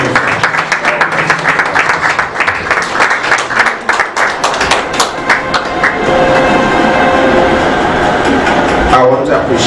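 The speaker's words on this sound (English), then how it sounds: "as we clap to the glory of God" A church congregation claps together in worship, loud, fast, continuous clapping filling the room for the whole stretch, with some voices mixed in.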